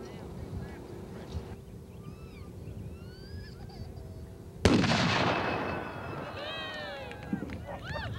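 Black powder anvil shoot launching a 100-pound anvil at a 1997 blacksmithing conference: one sudden loud boom midway, after quiet outdoor ambience with honking geese, then a fading rumble as geese keep calling.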